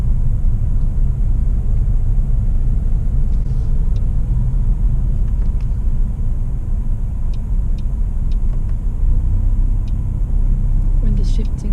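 A 2019 Mercedes-AMG A35 Edition 1 in sport mode, its engine rumbling steadily from inside the cabin as it shifts down through the gears, a loud continuous low drone with little change.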